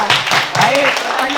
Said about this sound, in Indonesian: tepuk tangan lagi untuk kita